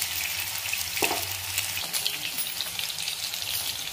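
Coated pieces shallow frying in a pan give off a steady, close, bright sizzle, with a soft knock around the second mark as a piece is turned over.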